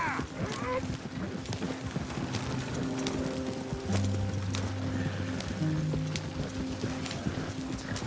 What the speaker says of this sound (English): the horses that are drawing this wagon